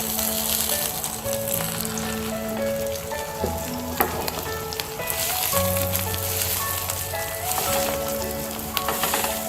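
A saag paratha, a flatbread made with mustard greens, fries in about a spoonful of cooking oil on a griddle, giving a steady, close sizzle with crackling pops and occasional scraping throughout.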